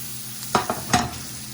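Sliced garlic and thyme stirred through a hot pan with a few brief bursts of sizzling and scraping over a steady low kitchen hum.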